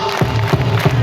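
Children at a primary school clap and cheer together in a short burst, with several rhythmic bursts of crowd noise close by.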